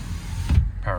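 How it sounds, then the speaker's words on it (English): Electric window motor on a 2014 Ford F450 diesel service truck, a brief close whir lasting under a second with a soft mechanical stop. "Power windows as well."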